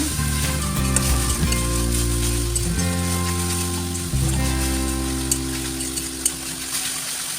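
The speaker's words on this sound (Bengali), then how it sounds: "এই মশলাগুলো আমি এখন ভালো করে কষিয়ে নেব" Spices frying in hot oil for a potato, cauliflower and egg curry, a dense steady sizzle close by, layered over a loud low droning hum that shifts pitch a few times, with an occasional faint clink and no talking.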